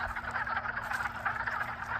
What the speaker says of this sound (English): the frogs are probably mating